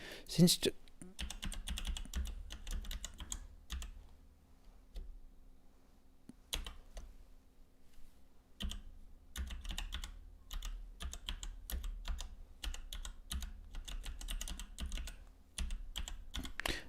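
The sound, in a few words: computer keyboard typing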